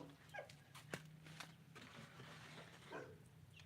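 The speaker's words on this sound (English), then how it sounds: "There's a dog whining or something." A dog whines faintly in the distance on a California homestead, a few thin cries over a steady low hum and light background noise.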